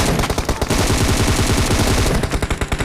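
Rapid M4 rifle fire in the PUBG Mobile video game, a loud, continuous automatic burst of closely spaced shots with a short lull in the middle before firing resumes.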